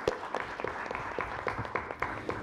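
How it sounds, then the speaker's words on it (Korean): Applause from a seated audience at a policy forum greets an introduced discussant, a faint, fairly sparse patter of individual claps heard at a distance and without any speech. "박수로 맞이해 주십시오."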